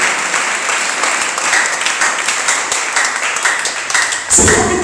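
A congregation at a French-speaking church service breaks into sustained applause, steady and full throughout, with a brief louder swell near the end.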